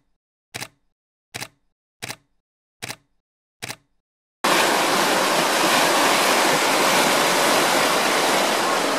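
Five sharp camera shutter clicks, evenly spaced and close, come first. Then loud white water roars, a broad steady rush from a river heard up close that carries on to the end.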